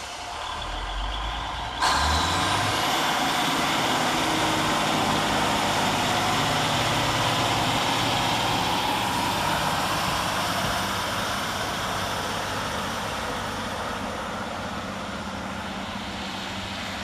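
Transport for Wales diesel unit 153913 pulls away from Cardiff Queen Street station. A loud engine rumble and rising drone start after a couple of seconds and hold steady, with a brake hiss near the start and no talking.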